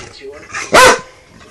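A small dog gives one loud, sharp bark up close, preceded by softer voice sounds in a quiet room.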